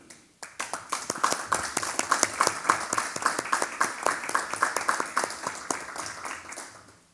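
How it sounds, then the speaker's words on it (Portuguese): A small audience in a formal council chamber ceremony breaks into applause, a dense patter of individual hand claps that swells quickly, holds steady, then tapers off. "que foi feito também merece os nossos aplausos"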